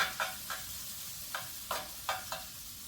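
Garlic, mushrooms and steak frying in a pan for a wild game calzone, a soft sizzle broken by a series of rhythmic stirring scrapes at irregular intervals, quiet and close, with no talking.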